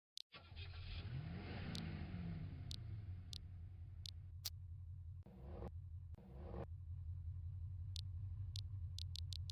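The REC car in the video game Second Life revs in neutral, a steady low engine rumble with a rising and falling rev sweep early on, punctuated by sharp clicks.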